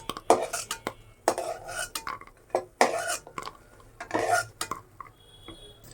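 Metal utensils scrape and clink against a pan in several short bursts, close up, as fried lentil dumplings, browned red, are lifted out of the oil.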